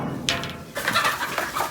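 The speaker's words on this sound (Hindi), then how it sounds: "उधर भाई पिजन आ रहे हैं जी नीचे हमारे" Pigeons flutter and call close by on a rooftop as the birds are let out of their coop, with short wing flaps and soft cooing over a steady outdoor background.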